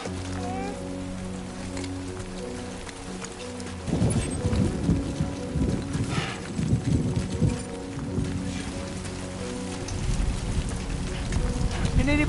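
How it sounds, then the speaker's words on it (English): Rain patters steadily across the ground in the game Death Stranding 2, a dense wash of drops that grows heavier and closer after a few seconds, with a faint musical tone underneath. "Rain. Gotta move."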